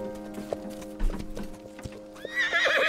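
A horse whinnies and its hooves clip-clop on the ground in a historical costume drama scene, with clear hoofbeats throughout and a loud, high neigh rising near the end.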